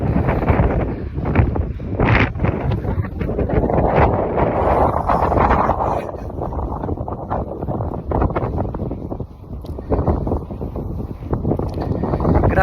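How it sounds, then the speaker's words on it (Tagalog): Strong wind buffets the microphone during a bike ride in a steady loud rumble with gusty surges, no other sounds standing out. "Lakas ng hangin."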